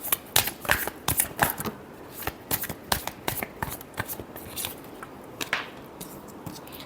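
Tarot cards being shuffled in close-up: a quick run of crisp riffling flicks and slaps, irregularly spaced, quiet and dry with no talking.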